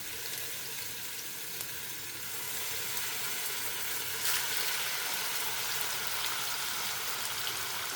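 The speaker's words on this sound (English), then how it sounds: "Okay, our oil is hot now. And then I'll just take the rolls and put them in there." Rouladen rolls browning in a frying pan of hot oil, giving a steady close sizzle and crackle that grows louder partway through and then holds, with no talking.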